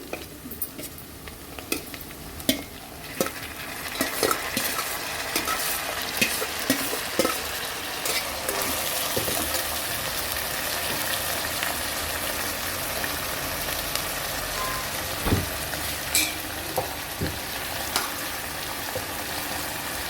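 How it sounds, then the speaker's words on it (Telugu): Cluster beans hiss and crackle steadily in a pan with onion and green chili, a continuous close sizzle broken by frequent sharp scrapes and clicks of stirring. "ఉల్లిపాయ పచ్చిమిరకాయ లైట్గా వేగిందండి. ఇప్పుడు గోడు చిక్కుడుకాయ వేస్తున్నాను"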